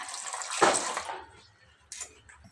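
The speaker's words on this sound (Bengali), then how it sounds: "পানি দিয়ে নিলাম" Small amount of water poured into a pot for homemade tomato sauce with ginger, cinnamon and cardamom, a short splashing gush fading over a second, then a brief second splash, fairly quiet.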